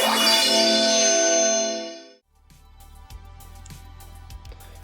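A bright chiming melody plays through the built-in loudspeaker of a Motorola Moto G7 Play phone, then fades away and gives way to a quieter stretch of faint clicks and background noise.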